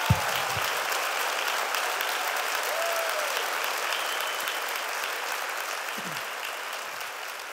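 A church congregation applauds, a steady dense wash of clapping that holds at an even level throughout, with a couple of brief low thumps near the start.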